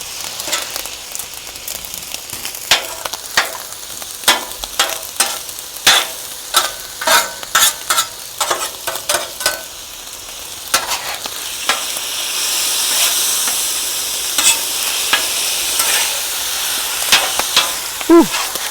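Day-old rice sizzles with butter on a hot hibachi griddle while a spatula scrapes and taps against the metal in a quick, irregular rhythm, then the frying settles into a louder steady hiss near the end.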